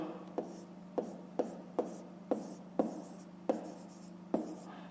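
Pen strokes scratch across paper during a fifth-grade maths exercise, a quiet steady run of short writing sounds broken by regular taps every half second or so, with no voices.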